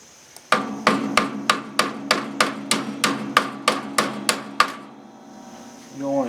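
Hammer tapping a bushing into the wheel of an older MTD mower: about a dozen sharp, evenly spaced metallic strikes, close and loud, followed by a short pause and a faint rustle.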